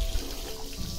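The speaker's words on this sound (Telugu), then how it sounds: "ఈ వాటర్ ఎలా వస్తున్నాయండి?" Water trickles and splashes steadily at the Battinayya Kona nature spot near Srikalahasti. The flow is soft, continuous and a little distant, with no voices.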